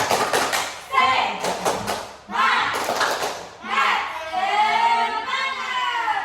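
A group at an orphanage guidance class performs a rhythmic spirit clap, with sharp claps mixed with loud voices chanting and shouting together, near and lively throughout.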